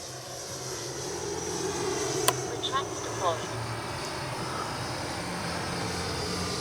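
An FMS Avanti S 90mm RC jet on a low, slow pass gives a steady, faint turbine whoosh, with a person talking over it.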